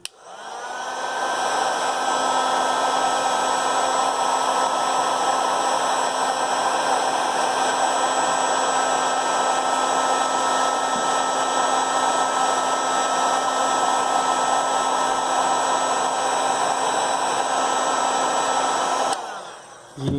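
Heat gun or hair dryer warming the back glass of an iPhone XS Max, a loud, steady whirring blow held for about twenty seconds before cutting off.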